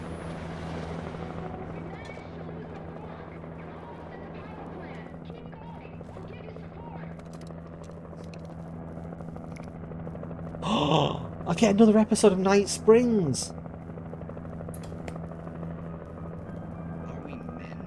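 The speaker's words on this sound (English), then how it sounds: "I wish I didn't have the noise of the chopper in the background" A helicopter in the video game Alan Wake drones steadily in the background, a low continuous rotor hum throughout, with someone talking over it and a brief burst of louder in-game noise near the end.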